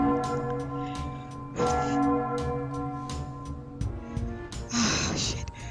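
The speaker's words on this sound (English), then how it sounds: "the bell rang loudly" In the video game Crimson Memories, a bell rings loudly and sustains with steady ringing tones, while softer clicks and a breathy rush come through near the end.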